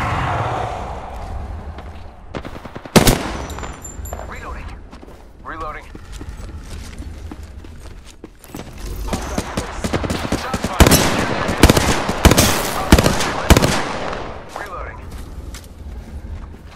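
Apex Legends battle with bursts of automatic weapon fire, scattered single shots early on, then heavy, sustained rapid firing in the second half, under game character voice lines and player talk.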